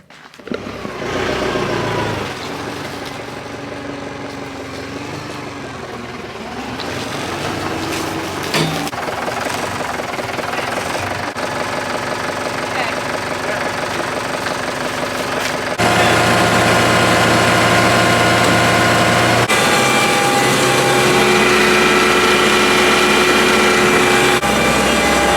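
An engine-driven generator on a farm runs with a steady mechanical drone that grows louder partway through and settles into a constant hum with a faint whine on top.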